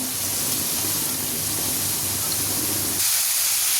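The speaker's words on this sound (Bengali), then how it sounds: "আলুগুলো হালকা তেলে ভেজে নেওয়া হচ্ছে" Potatoes fry in a little oil with a steady, loud, broad hiss that runs unbroken and shifts slightly in tone near the end.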